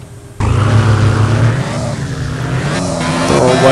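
A powerful black BMW in Car For Sale Simulator 2023 revs hard and pulls away, its engine roaring loud and steady with a rising pitch as it slides and accelerates.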